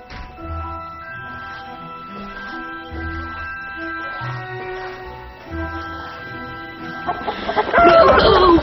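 A chicken clucks in the 2016 animated film Ballerina, dubbed in Tamil. The clucking rises loud and close near the end over a steady tonal music score, with no talk.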